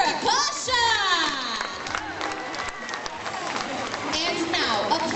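A crowd applauds and cheers at a tiger show at Six Flags Discovery Kingdom, with clapping, shrill excited shouts and children's voices rising in bursts over busy chatter, loud and continuous.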